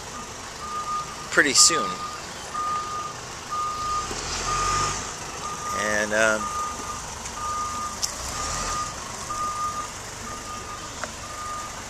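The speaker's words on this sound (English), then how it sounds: "they're backing a truck up into that construction site with those two houses" A truck backing into a residential construction site gives a steady, repeating reversal beep that pulses evenly throughout. Someone talks over it at times, and a low engine rumbles underneath.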